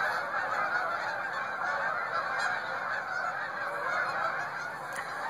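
A large flock of geese honking constantly, a loud overlapping chorus of calls that fills the whole stretch without pause.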